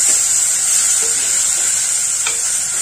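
Crushed onion, tomato and garlic sauté in a hot pan, a steady loud sizzle with faint stirring scrapes throughout.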